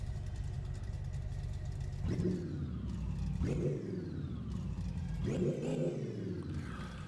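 A carbureted car engine runs in My Garage, idling steadily then blipped through three throttle revs that rise and fall, close and clear with no talking.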